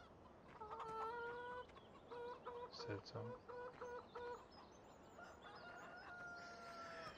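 Farmyard chickens in the farming video game The Vally cluck and cackle softly in bursts, with rooster-like calls. The sound is faint and distant, and someone says a single word partway through.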